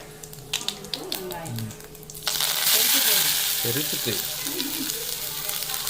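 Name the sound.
tempering cumin seeds frying in oil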